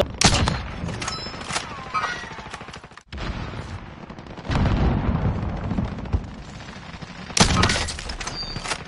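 Rapid gunfire bursts in a sniping video game, loud and dense, with heavy sustained volleys across the clip, a brief drop near the three-second mark and a fresh burst near the end.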